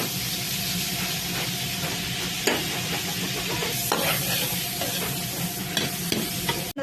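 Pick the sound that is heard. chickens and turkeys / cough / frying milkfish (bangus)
frying milkfish (bangus)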